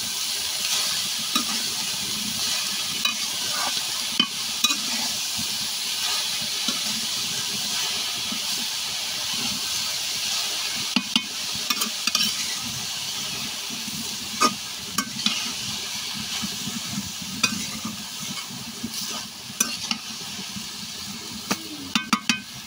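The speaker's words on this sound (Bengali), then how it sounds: "খেসারি শাক ভাজি করবো এখন।" Khesari greens (grass pea leaves) frying in a pan while being stirred: a steady, close sizzle and hiss with repeated scraping stirs and occasional sharp clicks, no talking.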